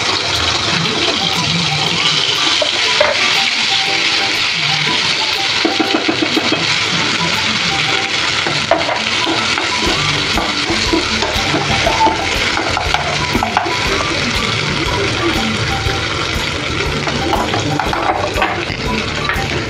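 A masala paste fries in hot oil in a pan, making a loud, steady, dense sizzle with stirring scrapes throughout as someone talks over it.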